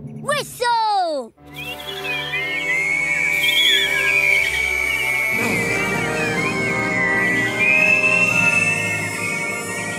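Cartoon characters in Cloudbabies blow a whistle together, a long bright sustained whistle tone wavering in pitch over several seconds after a short rising cartoon sound effect.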